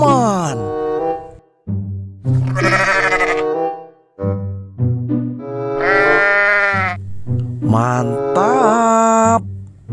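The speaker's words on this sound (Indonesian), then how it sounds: "Wow, ini domba teman-teman." Sheep bleat loudly nearby, several long wavering calls in a row with brief gaps between them.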